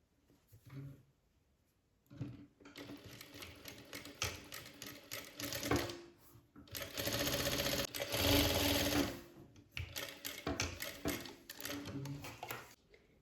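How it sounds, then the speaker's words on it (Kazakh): A sewing machine stitches turban fabric in several bursts of rapid, steady mechanical clatter separated by pauses. It is close and fairly loud, and a voice speaks briefly between runs. "Теріс жағынан тігеміз."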